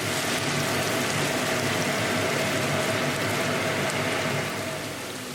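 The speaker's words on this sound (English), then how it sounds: "Now we're going to cook these onions really well." Onions frying in a pot, a steady dense sizzle and crackle close up that stays loud and even throughout before easing slightly near the end.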